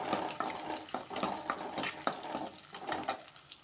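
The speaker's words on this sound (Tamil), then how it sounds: "இதையும் நல்லா வதக்கிக்கலாம்." Shallots and other vegetables sautéing in a pan for a tamarind curry, giving a steady, close sizzle with soft scraping stirs at an even, repeated rhythm and no one speaking.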